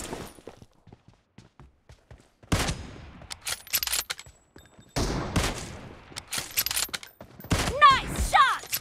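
Gunfire in a video game comes in sharp bursts of shots separated by quiet gaps, with in-game effects and scattered voices.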